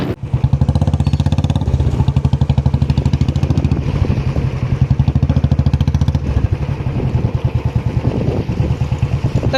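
A Royal Enfield Bullet motorcycle with a loud aftermarket exhaust thumps close by, its single-cylinder beat a rapid, even pulse throughout, steady and dominant with no speech over it.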